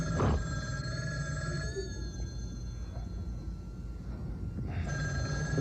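A played recording of a telephone ringing: repeated electronic rings, the first near the start and another near the end, separated by a pause, over a steady low background hiss.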